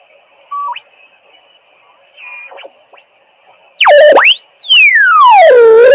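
Electronic test tones from a radio service monitor generating at 7.1 MHz: brief beeps, then loud sweeping chirps that glide up and down in pitch over a faint steady hum.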